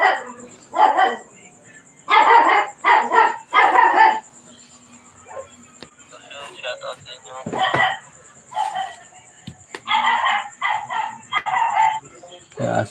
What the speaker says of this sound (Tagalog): Kaya aso pa dito, kaul ng kaul.